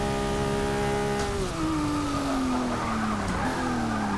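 Tires of a 1979 Datsun skid and squeal in a Forza 6 race, a loud sustained screech that slides downward in pitch over the roar of the racing engine.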